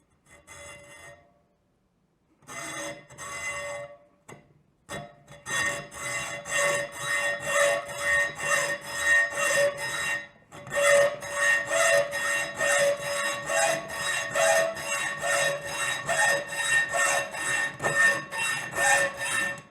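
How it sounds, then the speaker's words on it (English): Hacksaw cutting through peg board, rhythmic rasping back-and-forth strokes, close and fairly quiet, starting with a few hesitant strokes and then settling into a steady sawing pace with one brief pause. "Small cuts like that with the hacksaw aren't too bad."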